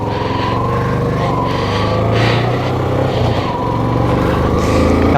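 Car pulling away on a hill road at Yelagiri, its engine droning loud and close with a low laboring rumble that rises slightly as it strains to get moving, steady throughout with no talk.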